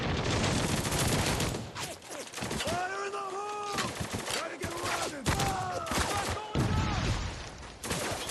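Rapid bursts of blind-fired gunfire in the war shooter Spec Ops: The Line, loud and dense, with speech layered over the shots throughout and a brief lull in the middle.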